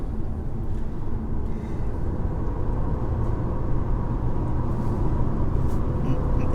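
An Alfa Romeo Tonale PHEV Q4 plug-in hybrid with 280 bhp drives a lap of a race track, giving a steady, continuous low road and engine rumble heard throughout at an even level, with no voices.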